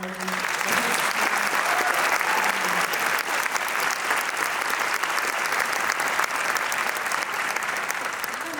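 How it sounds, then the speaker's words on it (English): A band audience gives a full round of applause, sustained loud clapping that holds evenly throughout and carries a faint voice early on. "I just want to take a minute and us all give a round of applause to Mr. John Bowman."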